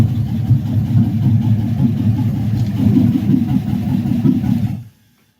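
A large truck engine rumbles loudly and steadily up close, a deep throaty idle that cuts off abruptly near the end.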